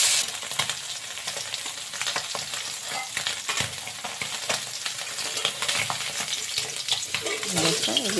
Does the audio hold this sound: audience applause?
no